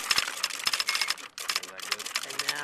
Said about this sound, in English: My colleague is going to be typing some gibberish.